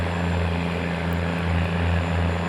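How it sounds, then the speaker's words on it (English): A tractor engine runs steadily, giving a loud, constant droning hum with strong low harmonics and no speech over it. "There's a real nice noise. Just a real nice tractor, this in general."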